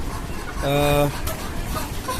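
Desi chickens kept on the rooftop of a five-storey house give a single drawn-out, tonal call lasting about half a second, rising over a steady background murmur, with faint shuffling afterward.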